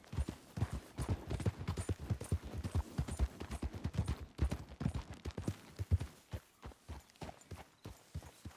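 Hooves of a horse galloping in Red Dead Redemption 2 pound in a fast, steady, irregular rhythm, with dull thuds throughout and no voices.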